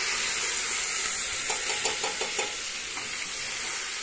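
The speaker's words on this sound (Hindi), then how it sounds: "इसने मिर्च का वगार किया है, लहसुन और मिर्च का।" Garlic and chilli tempering sizzles and hisses steadily in hot oil, with a run of soft stirring clicks in the middle, heard close and without talk.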